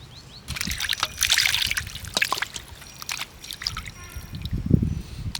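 Raw chicken is washed under water for a biryani, with trickling, splashing and sloshing near at hand in uneven bursts, and a few handling knocks, with no talking.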